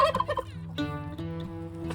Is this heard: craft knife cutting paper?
no